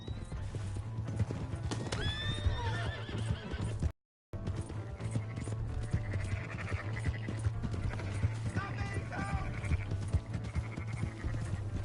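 Rapid hoofbeats of a galloping horse in Red Dead Redemption 2 pound steadily, with neighs and whinnies rising over a background music bed; a short gap of silence interrupts midway.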